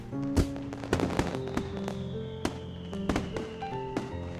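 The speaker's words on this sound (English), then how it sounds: "Monaco's gaze still firmly fixed on the Technicolor fireworks bursting overhead" Fireworks burst overhead during a night display in the Katawa Shoujo visual novel, sharp cracks and pops scattered irregularly over a crackling, ringing background with no voices.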